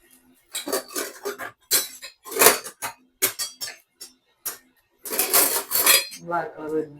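A spoon clinks and scrapes against a metal pot on a stove while stirring food, in irregular bursts of knocks with short pauses between them.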